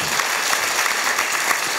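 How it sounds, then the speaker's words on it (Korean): Steady applause from an audience, a dense patter of many hands clapping throughout with no break. "원래 이럴 때도 박수 한번 치던데"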